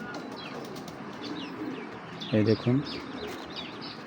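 A big racer pigeon held in the hand flaps its wings in two quick bursts while a person talks, with soft coos and chirps in the background.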